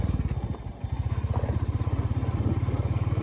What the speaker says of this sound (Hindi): भाई पहले मैं चला के देख रहा हूँ रॉयल इनफील्ड बुलेट 350।